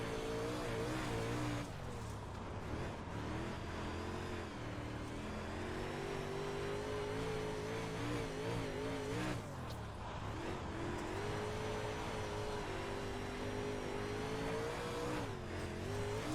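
A dirt race car engine in the iRacing sim at Cedar Lake, droning steadily and rising and falling in pitch as the throttle opens and closes, with a brief drop around the corners, continuous and close.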